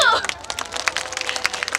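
An audience at an outdoor flower festival in Gimhae gives brief, scattered applause for under two seconds. A voice is heard at the very start.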